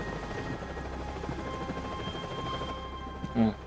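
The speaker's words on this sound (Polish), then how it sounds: "Tu jakieś helikoptery latają." Helicopters circle overhead in the video game Max Payne 3, a constant droning rotor rumble filling the scene, with a brief sharp sound near the end.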